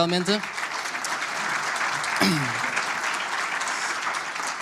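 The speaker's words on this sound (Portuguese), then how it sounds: "uma salva de palmas para eles" Applause at a Futebol Clube do Porto club-day event, a crowd clapping continuously with a brief voice over it at the start and another burst of speech partway through.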